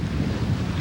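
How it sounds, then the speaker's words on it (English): Wind and waves on a sailboat crossing Lake Huron, a brief loud rush of wind buffeting the microphone over low water wash, close and steady. "Get out of the waves, wind and weather"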